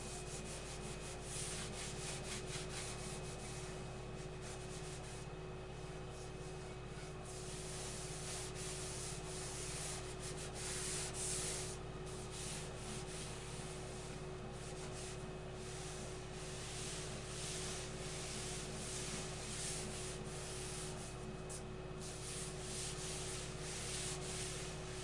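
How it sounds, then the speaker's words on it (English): Tack cloth wiping dust off a sanded solid maple king size bed frame before another polyurethane coat, a steady soft rubbing hiss running continuously and close, with no talking. "we're going to use tack cloth now"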